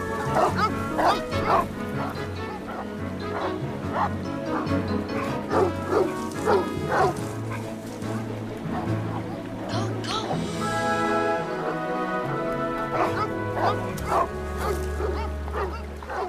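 Dogs bark in a rapid series of sharp, repeated barks, fairly close, with yips mixed in, over a dramatic movie scene where people speak at times.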